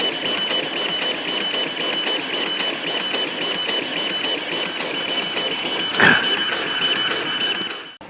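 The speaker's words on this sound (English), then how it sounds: "I'm going to let this actually fully run to see how warm these motors get." A 3D printer-style motion machine runs a maximum-acceleration speed test, its stepper motors whirring with a steady rapid rhythmic buzz and a high whine, close and continuous. A sharp knock comes near the end.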